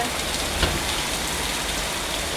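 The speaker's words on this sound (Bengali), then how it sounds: "কত জোরে বৃষ্টি আসছে আপনাদেরকে দেখাই" Heavy rain pours down steadily, seen from a rooftop, as a dense, loud, even hiss of drops on surfaces with no pauses.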